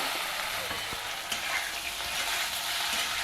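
Cut muthias sizzle with white sesame seeds, asafoetida and oil in a pan, giving a steady, close hiss of frying with a few faint clicks of stirring, and no one talks.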